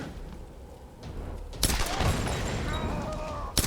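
Gunfire from the Tomb Raider video game: a muffled stretch, then a sudden loud volley of shots that carries on as a dense burst, with a fresh sharp shot at the end.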